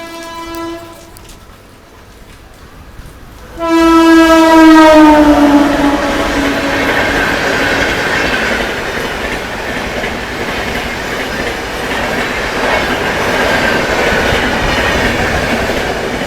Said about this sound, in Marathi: ट्रेन आली आहे कुठली तरी।